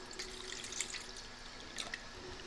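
Lace embroidery pieces rinsed in a shallow dish of warm water to wash out stabilizer, giving soft close splashes and trickles with a few brighter drips, quiet and without talk.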